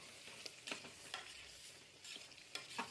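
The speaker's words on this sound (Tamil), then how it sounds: "போட்டுட்டு நல்லா தயிர் லெமனு எல்லாமே நல்லா கிளறணும்" Curd and lemon being stirred into biryani masala in a pan, faint wet scraping strokes in an uneven rhythm, quiet and close, with no one speaking.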